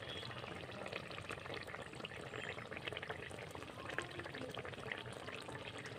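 Pitha deep-frying in oil produces a dense, bubbling sizzle that stays steady and close, with a few slightly louder pops and no voices.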